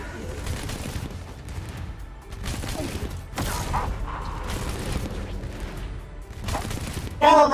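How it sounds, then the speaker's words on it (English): Defensive turrets open fire in the Arknights video game, with repeated bursts of rapid shots, clanking mechanisms and booms in uneven waves, ending in a louder burst. "Go, my turrets!"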